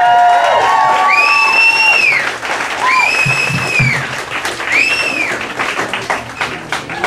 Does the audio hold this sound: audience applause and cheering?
yes